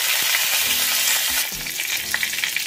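Curry leaves tossed into hot oil with mustard seeds burst into a loud, dense, close sizzle that surges partway through, with soft low thumps of stirring beneath and no one talking.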